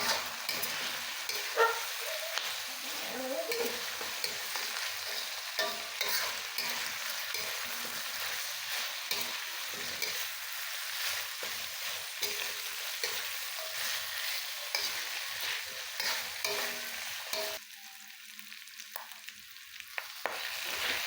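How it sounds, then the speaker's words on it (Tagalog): Pork adobo being stirred in a pan with vinegar, a steady broadband sizzle of frying with scraping stir strokes throughout, close and continuous, easing off briefly near the end before picking up again. "saka natin itong haluin."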